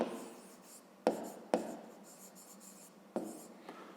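A pen writes a math expression on paper in a few short scratching strokes, each starting with a sharp tap on the page, close and fairly quiet in a still room.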